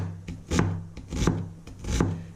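Knife slicing meat for a meatball stew, three slow rasping strokes in a steady rhythm, close and clear with no talking.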